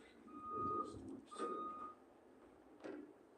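A vehicle's reversing alarm gives a few spaced electronic beeps over a noisy background, each tone held briefly with pauses between them, moderately loud.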